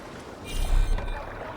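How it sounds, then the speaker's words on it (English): A boat is rowed across Irish waters in Assassin's Creed Valhalla, Wrath of the Druids: one brief, close swell of water washing and sloshing against the hull over a low rumble. "We must row in these waters."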